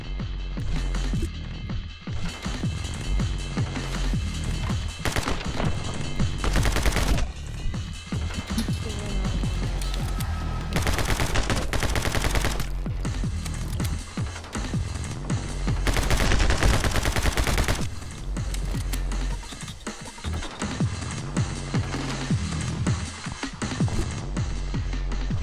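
Dual SMG gunfire in the game My Friend Pedro, loud rapid bursts that start and stop repeatedly over a busy background of music and effects.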